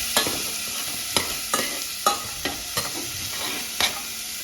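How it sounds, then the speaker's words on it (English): Onions and garlic fry in a pan for meatballs, a steady sizzle broken by sharp scrapes of a utensil against the bottom every half second or so as they are stirred. Close and clear, with no talking. "So we've got all our onions in there. Just mix it so it doesn't burn to the bottom."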